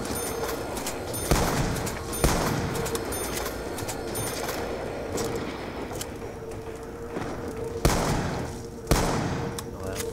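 Scattered gunshots from a Black Ops 2 Zombies game session, a few sharp loud reports spaced several seconds apart over a steady ambient game background.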